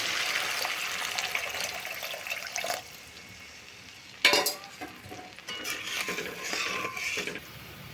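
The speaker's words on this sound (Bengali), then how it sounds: "এখন আমি জল দিয়ে দেব।" Spice paste with ground cumin, fried in oil in a pan, is stirred with soft scraping until water is poured in, setting off a sudden loud sizzle and splash that settles into bubbling and more stirring.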